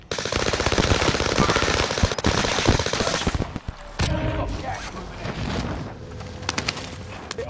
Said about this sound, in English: look, they're sniping at us